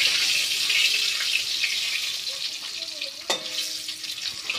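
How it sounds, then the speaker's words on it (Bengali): Eggs frying in hot oil with cumin seeds, giving a steady, close sizzling hiss throughout, with a brief sharp clatter near the end. "ডিম রান্না করবো আজকে, ডিমগুলো ভেজে নেব।"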